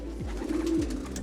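Pigeons coo steadily in low, throaty, repeated rolling calls, fairly close and continuous over a faint background hum, with no voices present.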